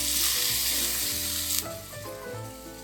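Tamarind water poured into a hot pan of spiced masala, during a green grape chutney or puli inji preparation, sets off a loud, hissing sizzle that gradually calms into a softer simmer.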